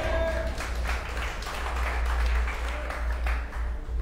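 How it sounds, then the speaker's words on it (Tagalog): Church congregation applauding during a morning service, a continuous wash of clapping for the whole stretch, fairly loud and steady, with a low hum underneath. "pumapalakpak na kayo"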